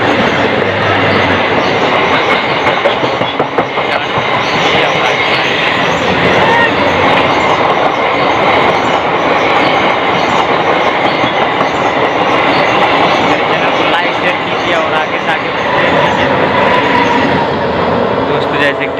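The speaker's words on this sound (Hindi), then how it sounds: "ट्रेन जा रही है" A train runs along railway tracks in Mumbai, rumbling loud and continuous throughout with a steady clatter of wheels and occasional squeal, while people talk over it.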